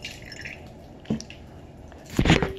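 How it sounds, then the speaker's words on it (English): Slime activator poured into a glue mixture gives soft wet drips and a louder squishy splash near the end, close and alone. "So you can see me just like pour an activator."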